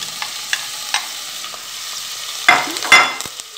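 Chopped bell pepper tumbles into a pan of onions already frying, giving a steady sizzle with two sharp bursts of hissing and spatula scrapes as the vegetables land and are stirred.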